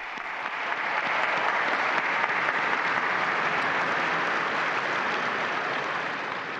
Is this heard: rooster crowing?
no